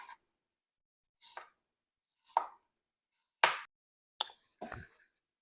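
A knife chops apples on a cutting board for a caramel apple bundt cake. About six separate, close knocks land at an uneven pace with silence between them.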